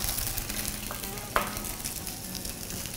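Japanese-style chicken meatballs frying in a pan, a soft continuous sizzle with one brief clink near the middle, close but fairly quiet, no voices.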